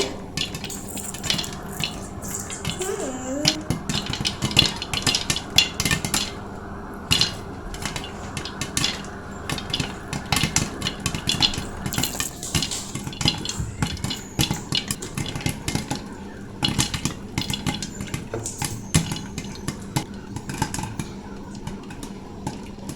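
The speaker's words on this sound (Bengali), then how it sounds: "দেখতে পাচ্ছেন আমার খইগুলো কিন্তু খুব সুন্দর মতো ফুটছে" Half a cup of corn kernels bursts into popcorn in a kadai on a stovetop, with dense, rapid, irregular pops and rattles against the metal that keep going and no talking.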